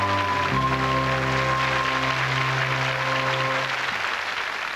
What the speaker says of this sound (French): Applaudissez plus fort parce que votre futur patron est là.